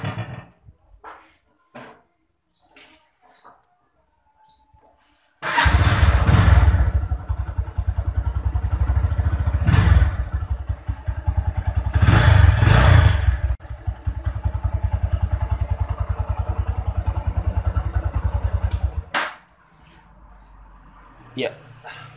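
A Honda Megapro Primus motorcycle engine fires up after a quiet stretch and runs steadily and loudly for about fourteen seconds, with a couple of throttle blips, then shuts off.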